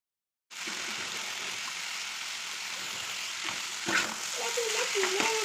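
Chow mein stir-fried in a home kitchen pan, a steady loud sizzle starting abruptly and running throughout, with scraping and tossing clatters of the spatula toward the end, no talking.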